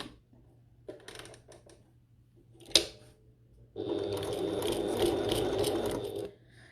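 A sewing machine stitches the corner of a bucket tote, running steadily for about two and a half seconds after a few soft handling noises and one sharp click.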